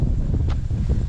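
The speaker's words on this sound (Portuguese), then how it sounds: "tá ventando um pouco" Wind gusts across a farm in Cachoeiras de Macacu, buffeting the microphone with a loud, low rumbling roar and faint rustling for a brief moment.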